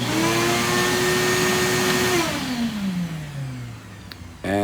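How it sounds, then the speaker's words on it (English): A home central vacuum system with a powered motor: a loud, steady motor drone that holds for about two seconds, then winds down in pitch and fades, ending with a brief burst of sound. "This turns on my vacuum."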